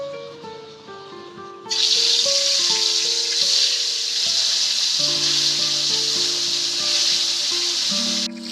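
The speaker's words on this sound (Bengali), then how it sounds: "তেল গরম হয়ে গেছে, এবার মাছগুলো ভেজে নেবো।" Fish dropped into hot mustard oil in a wok burst into a loud, steady sizzle that starts abruptly after a quiet moment and holds evenly to the end, close by with no talking.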